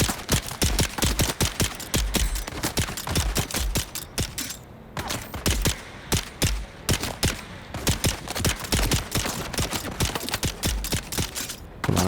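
Rapid pistol gunfire from the video game Dune Awakening, sharp loud shots firing in quick, uneven bursts almost nonstop with a few brief pauses.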